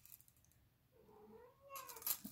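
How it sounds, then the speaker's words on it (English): A pet cat gives a drawn-out, rising and falling meow close by indoors, preceded by quiet room noise, with a small rustle at the end. "That's my cat, Luna."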